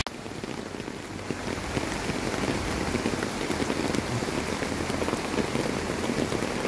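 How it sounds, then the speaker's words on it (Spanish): Steady rain pours down outdoors near Akumal on Mexico's Caribbean coast, a dense continuous hiss of drops on surfaces, close and fairly loud with no voices. "no se ve, pero está lloviendo"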